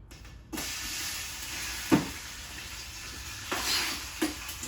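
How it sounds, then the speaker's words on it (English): Meat sizzles steadily in a hot pan for gumbo, a continuous close hiss with a few brief louder pops and crackles. "We're gonna throw this into the pan and we are gonna start cooking our meat"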